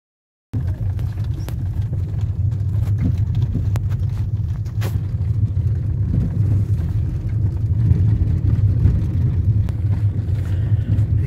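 A car engine rumbles low and steady as the vehicle drives along a rough dirt road on Jabal Shams mountain, with occasional bumps and rattles and no one talking.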